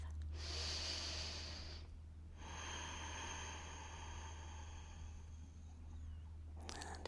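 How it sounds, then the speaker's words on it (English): A deep, drawn-out breath taken during a gentle floor yoga stretch for the back and neck, with a long airy inhale and exhale heard close and alone over a low steady hum. "Take a big breath."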